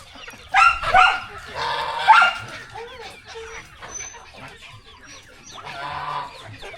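Black Karinkozhi chickens at a farmhouse in the morning cluck in short, close bursts, with further scattered animal calls in between.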